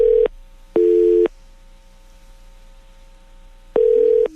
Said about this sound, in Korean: 지금 전화 연결이 조금 원활하지 않았는데요.